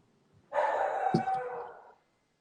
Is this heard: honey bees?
no